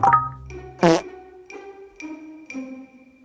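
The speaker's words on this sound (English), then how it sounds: "Oh my god, wet fart." A wet fart rings out once, a short, loud, sputtering burst, surrounded by quieter tonal sounds.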